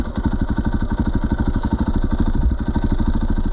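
A motorcycle fitted with a Rekluse automatic clutch revving for a first-gear throttle takeoff, a loud, close, rapidly pulsing engine note that stays steady and strong throughout.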